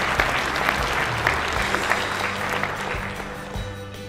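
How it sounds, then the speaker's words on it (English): Sustained applause from the audience at the Kansas Farm Bureau's 100th annual meeting general session, honoring award-winning farm families; a dense, steady roar of many hands clapping close by, with faint voices mixed in. "Let's give them all one more round of applause."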